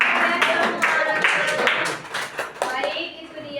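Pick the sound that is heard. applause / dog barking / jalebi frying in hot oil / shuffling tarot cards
applause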